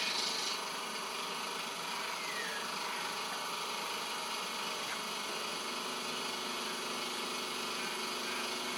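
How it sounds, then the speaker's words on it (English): Fuelmaker C3 CNG refuelling compressor running during a fill, a faint steady mechanical hum and whir with no break. "Definitely feels like a stronger compressor. because I can hear the actual fill process."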